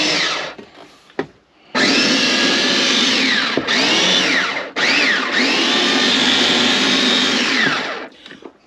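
A food blender, running off a converter in a camper van, whirs loudly in several bursts with short pauses and a slight rise and fall in pitch as it mixes.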